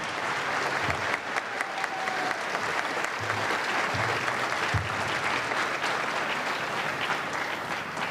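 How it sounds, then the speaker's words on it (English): An audience at a school all-county band concert applauds the directors with steady, full, continuous clapping that holds at an even level throughout, with a few faint voices mixed in. "How about a big round of applause for the directors?"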